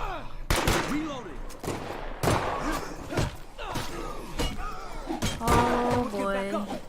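Gunfire in the video game Dread Zone: scattered sharp shots and thuds burst out at irregular intervals amid clattering game effects and tonal beeps, with a voice speaking over parts of it.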